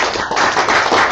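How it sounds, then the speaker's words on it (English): A small group claps at the close of an online talk, a short steady burst of hand claps filling the moment at close range with no talk. "Everybody give a round of applause, Todd"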